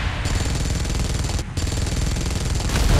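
Rapid, continuous automatic weapon fire aimed at Mecha Godzilla in the video game PUBG, a dense loud burst running nearly unbroken for about three seconds with one brief dip midway.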